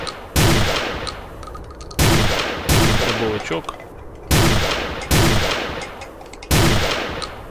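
Loud shotgun blasts from a Saiga-12K carbine in a video game fire six times at steady intervals, each a sharp boom with a short decay, while a voice speaks briefly in Ukrainian between the shots.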